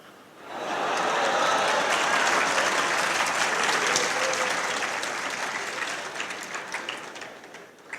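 Large audience bursts into clapping at a motivational talk, swelling quickly into loud, sustained, dense applause that holds steady before slowly thinning toward the end.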